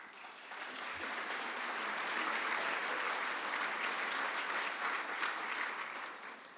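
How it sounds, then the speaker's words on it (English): A dense wash of audience applause fills a hall during a city's State of the City address, swelling quickly, holding steady and fading slightly at the end, with no voices over it. "and then you started clapping"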